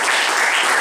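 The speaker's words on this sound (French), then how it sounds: "Je vous demande d'applaudir le maître de jeu de Bushido." Audience applause at a role-playing game tournament awards ceremony, a dense, steady wash of many hands clapping together, loud and continuous throughout with no voices standing out.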